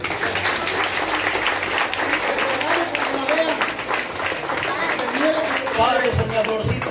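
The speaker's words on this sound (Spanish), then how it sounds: "Y otro fuerte aplauso para la cumpleañera." A crowd at a birthday celebration claps for the birthday girl, a steady, fairly loud wash of applause with voices and crowd noise running through it.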